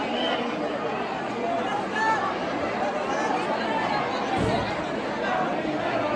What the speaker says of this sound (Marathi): बघा ना एवढी गर्दी आहे इकडं.